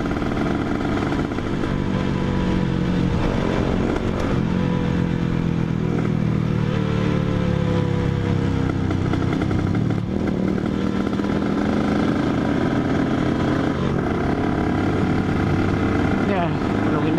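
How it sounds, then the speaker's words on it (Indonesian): A Honda NSR 150 motorcycle with a racing exhaust revs loudly and continuously close by, its raspy engine note rising and falling as speech runs over it. "knalpot racing."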